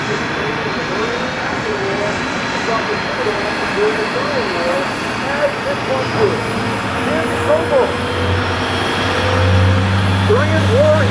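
An F4U Corsair warplane passing at an air show, a loud steady engine drone that swells slightly toward the end, with crowd and announcer voices mixed underneath.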